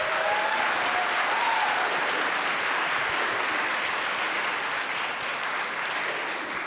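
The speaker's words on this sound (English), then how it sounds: "Round of applause for Ileana." Sustained applause from an audience at the National Civics Bee Championship, a dense, even patter of clapping hands lasting several seconds with no talking.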